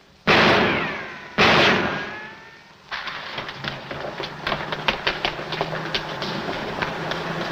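Two sharp, loud gunshots ring out in a 1947 film, each with a long echoing decay, followed by a busy rattling, clattering run of movement noise.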